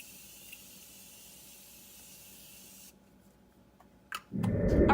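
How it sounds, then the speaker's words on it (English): A short burst of spray near the end, loud and close, after several seconds of quiet room tone. "now I'm just going to spritz my face with some setting spray."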